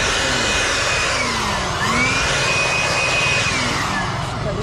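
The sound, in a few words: powerful air blower running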